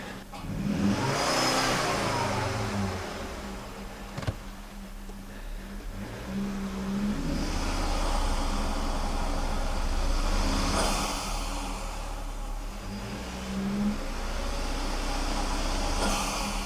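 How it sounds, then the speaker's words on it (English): A Volvo C70 with a hesitation and low-power fault revs during a brake torque test, its engine rising and falling in three sweeping surges over a steady low rumble, close and moderately loud. "Let's brake torque again."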